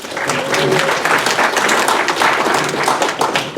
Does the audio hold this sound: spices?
no